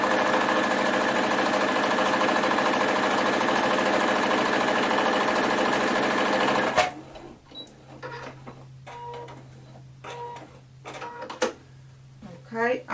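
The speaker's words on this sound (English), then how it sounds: "now I'm going to sew on this side" A sewing machine runs steadily at close range, stitching strips of scrap fabric for a string tumbler quilt. It hums and chatters without a break for about seven seconds, then stops, and quiet handling noises and a voice follow.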